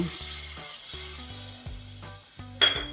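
Milk poured into roasted sweet potato in a pan over low gas for shakkariya no shiro, a sizzling hiss with stirring and a few sharp utensil clinks near the end.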